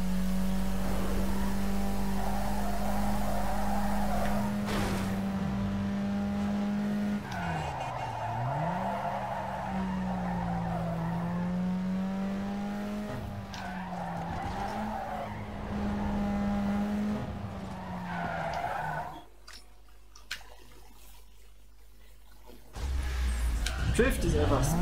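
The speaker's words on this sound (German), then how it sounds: "Und weil es uns so gut geht, noch ein Drift hinein." A street-tuned car in Need for Speed Underground 2 drifts with a steady droning engine and long sustained tire squeal that rises and dips through the turns, fading out briefly before the engine returns.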